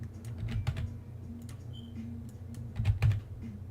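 Close clicking on a computer keyboard in an Unreal Engine 4 tutorial session, a short irregular run of keystrokes over a low background hum, with no one talking.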